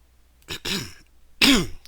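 A person clears their throat twice, two short rasping, voiced bursts close to the microphone with a brief pause between them.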